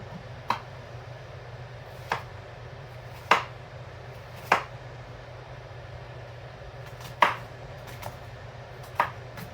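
A knife chops vegetables for coleslaw on a board in six separate, sharp, fairly close strikes at irregular intervals over a low steady background hum.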